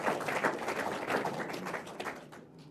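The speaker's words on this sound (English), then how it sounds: "They deserve a hand of applause." Steady, dense applause from an audience at a regional government address in Hardap, Namibia, filling the short moment continuously before easing slightly at the end.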